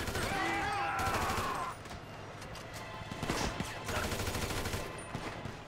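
GTA 5 Online gunfire pops in scattered shots and short bursts, moderately close, under busy game noise and a brief tonal effect early on, with a voice speaking at one point.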